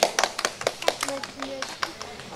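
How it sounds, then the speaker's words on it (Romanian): Clapping at a child's birthday party, a few sharp uneven claps from a small group under children's and adults' voices, close and moderately loud. "La mulți ani, aplauze tuturor."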